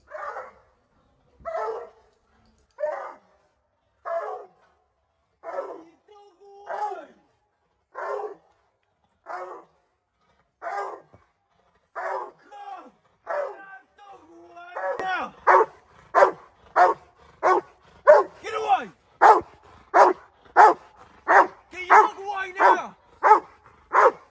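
A Rottweiler barks during a home invasion role play, a long series of loud evenly spaced barks that grow faster and more intense toward the end, with no other sounds between.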